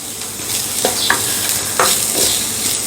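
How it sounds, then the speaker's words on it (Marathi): Mixed vegetables sauté in a pan for a jowar flour soup, with a loud close sizzle broken by the scrape and clatter of stirring at irregular intervals. "एक मिनिटभर ह्या या भाज्या सगळ्या मी परतून घेतल्या"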